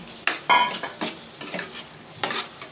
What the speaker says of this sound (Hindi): हम इसे अच्छे से मिक्स कर लेंगे और हम अब इसमें डालेंगे अपने चने